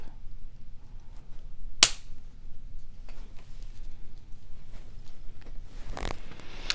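A wire cutter snips through a small metal jump ring on jewelry wire, giving one sharp, close click, with a fainter second snap a few seconds later in a quiet room.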